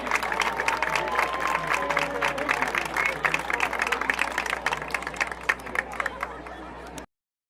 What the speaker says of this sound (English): let's give a round of applause for the 2025 Algona High School Charlotte Regiment Marching Band